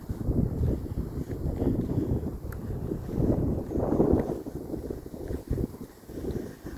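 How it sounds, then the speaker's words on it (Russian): Cold, frosty wind blows by the water in the Netherlands, a steady low rushing buffet against the microphone with gusts swelling and easing throughout. "Холодный ветер очень."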